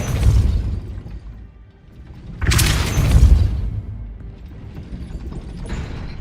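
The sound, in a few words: Depulso spell blast in video game Hogwarts Legacy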